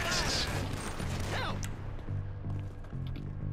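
A burst of video game gunshots: several sharp cracks and crashing impacts early on, then a run of evenly spaced thuds under a steady rumble of game sound.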